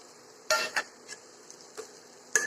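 Chopped capsicum tipped into a steel kadhai on an induction cooktop and stirred, giving a few quiet scraping clinks and taps of a spoon against the pan, faint and sparse.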